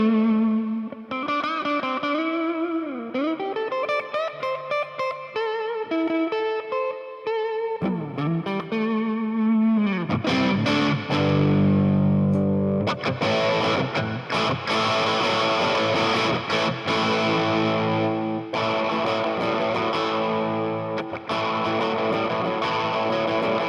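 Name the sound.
Jackson JS22 Monarkh electric guitar played with distortion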